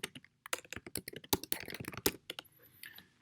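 Close, crisp keystrokes on a computer keyboard rattle out in quick uneven bursts, clicking sharply as a search term is entered into a website search bar.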